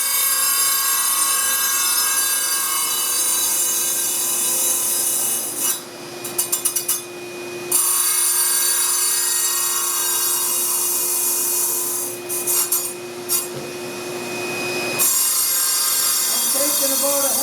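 A vitrified ceramic grinding wheel spinning at about 2,000 RPM and lightly grinding a part, a steady high rasping whine with short gaps and scratchy bursts as the wheel touches and rolls over the edges.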